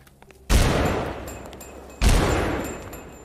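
Two heavy magnum revolver shots in the horror game Eternal Evil, each a loud sharp blast with a long decaying tail, about one and a half seconds apart, with no talking.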